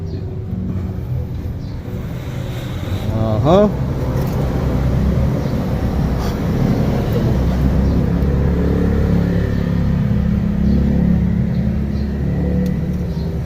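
A Toyota 4K engine idles with a steady low rumble during a tune-up, with a brief revving flare partway through before it settles back to a constant running drone.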